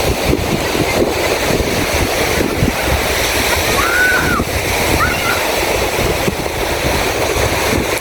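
Steady wind rushing at the seashore in Leyte, Philippines, with surf and a constant blustery roar buffeting the microphone throughout.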